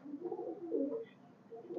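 High flyer pigeons coo in a low, rolling, continuous warble, close and fairly loud, with overlapping calls and no talking.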